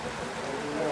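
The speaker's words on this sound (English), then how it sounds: "You may think that it's a small but picturesque waterfall, but no, it's a spring" A spring in a Chechen village gushes steadily like a small waterfall, giving a continuous, dense rushing wash of water without pauses.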